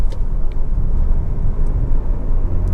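A 2.0 i-VTEC Honda CR-V EX 4x4 overtakes on the road, its steady low rumble of engine and tyre roar holding loud and constant with no talking.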